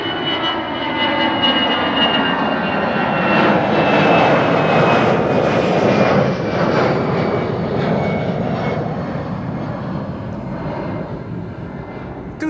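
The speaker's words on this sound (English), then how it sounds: "Departures today, as you can see, Croatian leaving for Zagreb." A Croatia Airlines plane departs Amsterdam Schiphol for Zagreb, a loud sustained engine roar that swells and then slowly fades as it climbs away.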